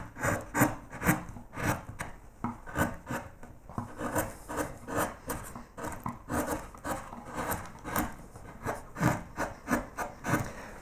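Flat gouge carving a wooden swag of flowers, bosting in: close, steady rhythmic scraping and shaving strokes repeating roughly every half second, alone without talk.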